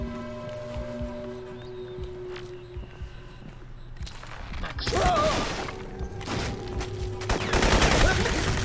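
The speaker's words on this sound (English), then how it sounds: "he actually came out shooting" Gunfire in the PC game Crysis, quiet background ambience first, then a dense burst of automatic shots about halfway through that continues to the end, loud and close.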